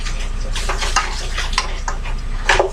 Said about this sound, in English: I'm going to stir it all in